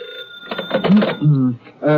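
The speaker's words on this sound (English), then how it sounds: "when the phone rang" A telephone rings in a 1950s radio drama, a bright electric bell burst mixed with voices speaking over it.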